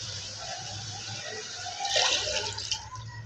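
Water poured into a cooking pot of chicken pulao with rice, a steady close splashing that swells louder and fuller toward the end.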